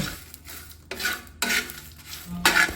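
Short bursts of stirring and scraping in a pan with a light sizzle, panch phoron five-spice seeds and chilies frying in oil, close and fairly quiet with brief louder strokes.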